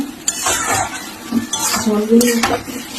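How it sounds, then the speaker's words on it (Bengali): A spoon clinks and scrapes against a metal pan as lotte fish is stirred with spices, in short, close, clattering strokes over a faint sizzle. "একটু নাড়াচাড়া করে রেখে দিলাম মাছটা"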